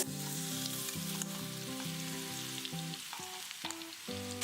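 Cumin seeds and ready-made spice masala fry in a hot kadhai for a potato filling, with a steady close sizzle and crackle and some stirring, and no talk.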